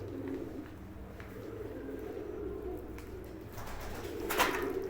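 Pigeons coo softly and repeatedly inside a loft of paired breeding birds, the low murmuring calls continuing steadily over a faint background with a few brief brighter noises near the end.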